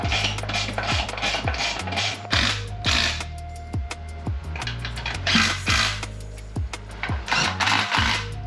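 A ratchet clicks in quick, repeated strokes as bolts are driven to mate a BMW gearbox to a Volkswagen engine, close and busy with short pauses between runs of clicks.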